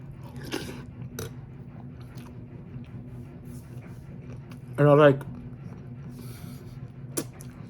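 A person eating crunchy cereal, close-up intermittent crunches and chewing sounds with soft mouth noises amid quiet background, plus a brief voiced sound midway.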